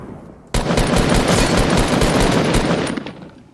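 Rapid automatic gunfire in the Fortnite video game, a loud sustained burst of rattling shots starting abruptly after a quiet moment and running for about two and a half seconds before trailing off.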